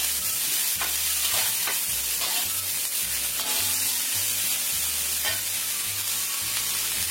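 Tempeh is stir-fried in a pan with a steady loud sizzle, while a utensil scrapes and stirs in repeated strokes close up, with no talking.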